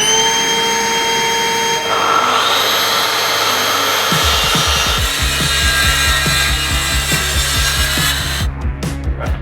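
Hand saw trimming a 45-degree miter in wood, close and loud, with strokes that turn from a smooth rasp into a steady back-and-forth rhythm of distinct pulls.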